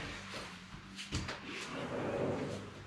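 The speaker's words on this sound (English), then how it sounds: "I need to get a door open." A door opens with a brief knock and clatter, then a soft sliding rustle, heard moderately close amid room noise during a home fitness workout.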